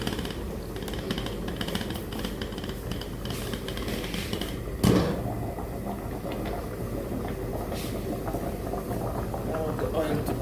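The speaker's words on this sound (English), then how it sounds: "Now the oil to cook for like 3 minutes." Oil heats in a cooking pot for jollof rice, giving a steady low bubbling hiss that runs throughout, with one sharp clatter near the middle and no speech.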